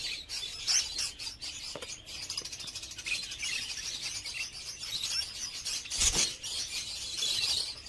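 A pair of king budgies chirps continuously up close, with busy, overlapping high warbling tweets and scratchy chatter, plus a few soft knocks from their cage.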